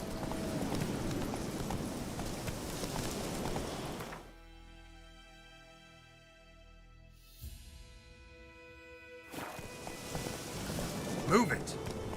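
Roach the horse gallops in The Witcher 3: Wild Hunt, steady hoofbeats that drop away into a quiet stretch of sustained game music before the galloping returns near the end.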